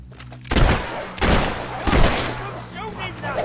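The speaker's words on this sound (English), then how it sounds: "I'm shooting that thing!" Gunfire in Fable 3: three rapid, loud bursts of shots follow one another at close range. A short voice is heard near the end.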